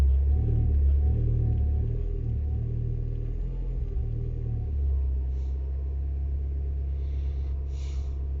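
A car engine idles and rumbles with a deep, steady low drone, swelling slightly in the first seconds before settling, heard close with faint clicks near the end.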